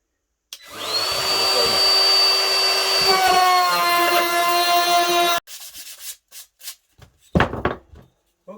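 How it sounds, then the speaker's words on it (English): Router rounding off the corners of a wooden base, a loud high-pitched whine with rough cutting texture for about five seconds, then stopping, followed by short scraping and handling noises. "I'll just use my router here just to round off the corners"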